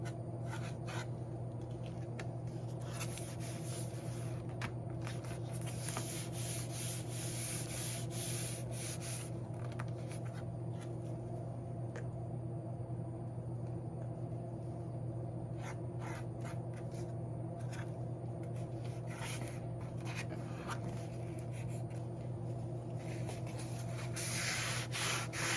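A steady, close rubbing rasp from sanding textured paint smooth on a Dollar Tree DIY craft piece continues for the whole stretch in long back-and-forth passes, with no voices.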